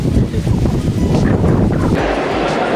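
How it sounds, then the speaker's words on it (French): Strong wind gusts blow outdoors in London, buffeting the microphone with loud, continuous rumbling and rustling for a few seconds, with no other sounds standing out. "le vent se lève."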